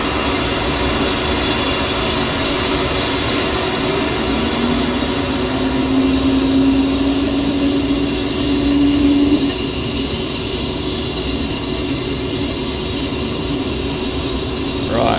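Engines of an A-10C jet in the DCS flight simulator are spooling up during a cold start, giving a loud, steady, continuous whine and roar with a faint rising tone midway; it runs alone throughout without talk.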